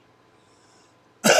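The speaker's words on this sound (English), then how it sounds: "so I'm coughing like crazy" After a quiet stretch, a single sharp cough bursts out loudly right at the end.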